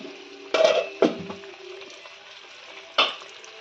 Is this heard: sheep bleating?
no